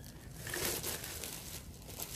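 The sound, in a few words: plastic bag around a bathroom scale crinkling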